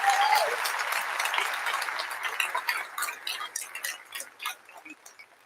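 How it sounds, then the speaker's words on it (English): Audience applause at a UTI graduation ceremony, starting loud and dense and then gradually thinning out into scattered claps over several seconds, with a brief whistle or cheer at the start. "Let's all please give them all a well-deserved round of applause."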